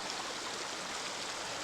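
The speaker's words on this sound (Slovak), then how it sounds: "a podobnou preteka potok Holubnica" The Holubnica brook rushes steadily beneath a bridge near Novoveská Huta, a continuous broadband babble of flowing water, close and even with no voices.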